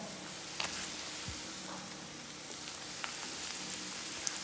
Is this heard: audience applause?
no